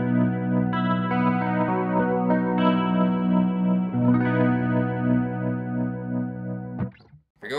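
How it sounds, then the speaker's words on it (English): An electric guitar plays through a cheap chorus pedal on a standard, shimmery setting: sustained chords ring with a wavering, doubled sheen over several seconds, then fade into a short descending slide. "If you're going for chorus sound, that's what you want right there"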